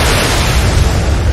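An airplane crashing produces a loud, rumbling roar with a deep booming low end, continuous and heavy throughout, with no voices.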